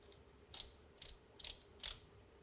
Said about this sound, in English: Using a torque wrench, tighten the vise jaws to 25 inch-pounds.